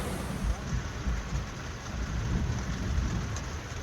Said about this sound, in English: Bit of a stormy morning this morning.